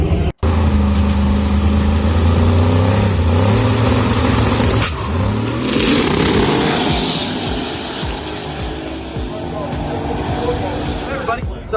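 A drag race car with big tires warms up at the track, its engine loud and close, holding a steady rumbling idle with some revving that swells and shifts throughout.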